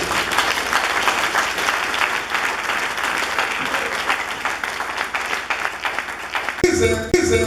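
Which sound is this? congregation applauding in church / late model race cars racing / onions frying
congregation applauding in church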